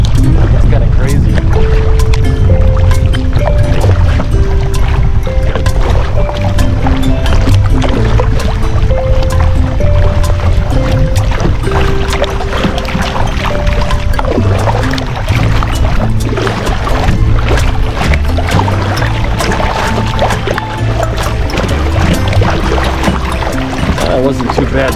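A boat crossing very choppy water on Lake Maloney in North Platte, Nebraska, where two winds meet, giving a loud, constant rumble of engine, wind and slapping waves with a voice talking over it.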